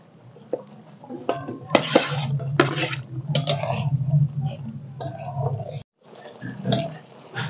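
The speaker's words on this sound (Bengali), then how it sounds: "এখন এর মধ্যে দিয়ে দিব ভেজে রাখা রুই মাছ" Fried rui fish drops into a pan of boiling gravy, with clattering of pan and utensils, splashy bubbling, and a simmering hiss, heard up close.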